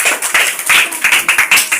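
Children in a classroom clap for a classmate, a quick, close burst of bright, rhythmic claps that stays lively for a couple of seconds.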